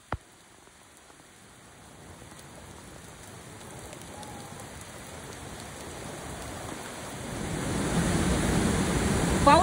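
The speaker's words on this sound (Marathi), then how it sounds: "इतका भयानक पाऊस चालू झालाय ना" Heavy rain on a waterfall trek near Kalu waterfall, a steady hiss of downpour that grows louder and denser toward the end.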